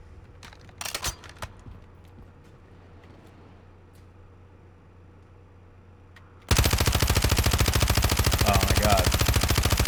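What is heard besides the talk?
gunfire with suppressor at a video game firing range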